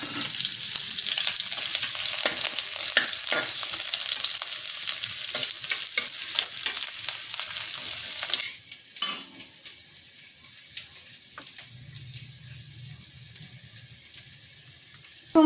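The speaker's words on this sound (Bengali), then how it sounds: "এই পেঁয়াজটা একটু ভাজা ভাজা করে নিই।" Onion frying in mustard oil in a wok, a bright steady sizzle with stirring scrapes for several seconds, then dropping to a quieter low hiss with faint clatter near the end.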